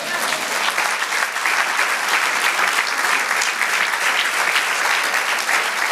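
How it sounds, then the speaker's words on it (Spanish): A church congregation claps together in a steady, full round of applause, many hands blending into a continuous dense roar that stays even and loud throughout. "Es un aplauso al Señor."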